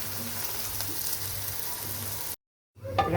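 Punjabi-style mooli paratha sizzles in ghee on a hot griddle over high heat, a steady crackling fry that cuts out briefly, then resumes as the paratha is turned.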